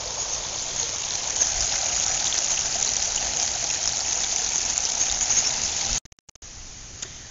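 Water tumbling down a waterfall into a newly built garden koi pond, a constant close rushing and splashing that cuts out briefly in stutters near the end.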